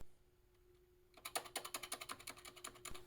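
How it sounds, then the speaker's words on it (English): Keys struck on a PS/2 keyboard hooked to a homebrew 486 computer, starting with a few faint taps and then a quick, fairly even run of about fifteen sharp clicks, close and alone. "As you can see, the backspace button works, and I can type stuff in as well."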